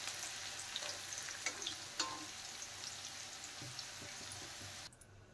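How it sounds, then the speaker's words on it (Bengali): Cauliflower fries in a pan with a soft, continuous crackling sizzle and occasional small pops, fairly quiet and steady, cutting off abruptly near the end. "এখন আমি দেখেন ফুলকপিগুলো ভেজে নিচ্ছি।"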